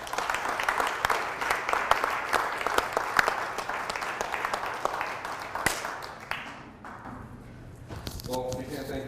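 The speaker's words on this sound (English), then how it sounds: "please join me in thanking these storytellers one more time with a round of applause" An audience gives a round of applause for storytellers, sharp individual claps building into a steady patter, then thinning and fading as the clapping winds down near the end.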